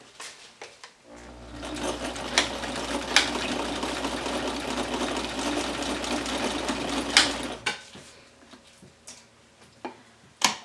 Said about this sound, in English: I'm going to start at the top and back tack, go down to that 1-inch mark and back tack again